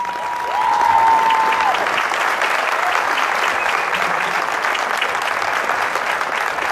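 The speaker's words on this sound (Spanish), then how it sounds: "Un fuerte aplauso para él." A crowd at an outdoor tribute concert in Pehuen Co gives a new band member a loud, sustained round of applause, steady clapping that fills the whole stretch, with a brief whistle near the start.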